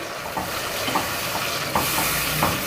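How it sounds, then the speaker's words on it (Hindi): Spices with turmeric and coriander powder being stirred into a masala in a cooking pan, a continuous close sizzle with a few soft scrapes of the spoon against the pan. "और इन तमाम मसालों को मिक्स करेंगे।"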